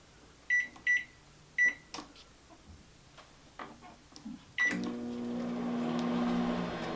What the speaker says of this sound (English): just plop her right in the old microwave